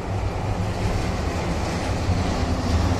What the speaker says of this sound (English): You have the tram right in front of you.